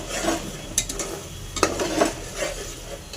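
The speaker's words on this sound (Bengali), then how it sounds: "ভালো করে কষিয়ে নেব।" A masala spice paste is stirred and fried in oil in a pan. A spoon scrapes and clinks in irregular strokes over a soft background sizzle, all close up and without talk.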